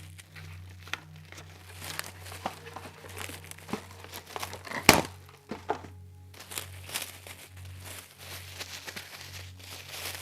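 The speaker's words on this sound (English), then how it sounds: "I will take some saran wrap, plastic wrap" Plastic wrap crinkles and crumples as it is scrunched up for watercolor texture: soft, close, intermittent rustling with one sharper crackle partway through, fairly quiet overall.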